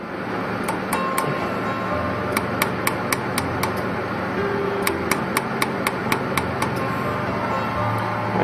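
A desktop jewelry laser welding machine welding a scrap piece of steel, firing a rapid series of sharp, bright ticks in two bursts over a steady mechanical hum.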